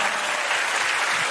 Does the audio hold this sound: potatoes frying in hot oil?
no